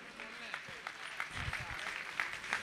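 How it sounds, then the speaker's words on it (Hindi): A live audience claps along at a Jain monk's question-and-answer religious gathering, with steady, dense applause and a voice speaking over it throughout. "आइए भैया ताली बजाइए।"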